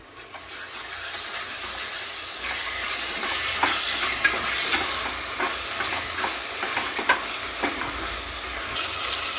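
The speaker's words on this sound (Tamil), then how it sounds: "இப்போ நல்லா கிளறி விடுங்க." Corn biryani masala with two teaspoons of garam masala being stirred in a pan, a steady close sizzle and hiss with soft scraping strokes of the spoon, no voices.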